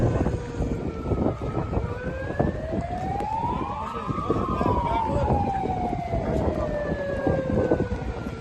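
Fire engine sirens wail at a sugar mill boiler fire, several rising and falling tones overlapping and sweeping across one another, loud and continuous against background noise.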